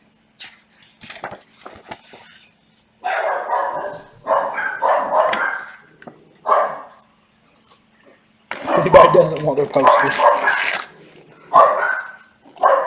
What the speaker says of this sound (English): Alright, dog's so excited about something.